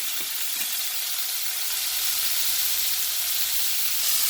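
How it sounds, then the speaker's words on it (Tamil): Green beans sauté in oil in a covered pan, giving off a steady, close sizzling hiss that holds at an even level throughout, with no voices over it. "இப்போ நாங்கள் நாங்கள் விட்ட எண்ணெயோடு வதங்கி கொண்டு இருக்குது"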